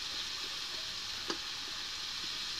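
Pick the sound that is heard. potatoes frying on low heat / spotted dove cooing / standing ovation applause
potatoes frying on low heat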